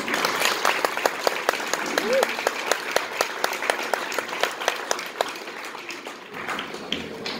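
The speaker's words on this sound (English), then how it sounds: "give yourselves a big round of applause for that" Steady, full applause from a crowd of roughly 275 people fills a room at an MS fundraiser gala in Calgary, Alberta, with sharp individual claps standing out throughout.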